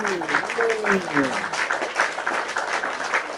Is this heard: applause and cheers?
yes